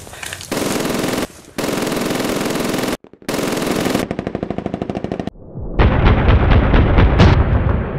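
Sustained machine gun bursts in a wartime ambush, loud and close, firing in long continuous strings with brief gaps, ending in a denser, rougher stretch of rapid fire.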